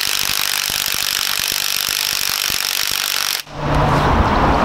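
An impact wrench hammers at a car's wheel lug nut that won't come loose, a loud fast rattling chatter held for several seconds and then cut off sharply, with no talking.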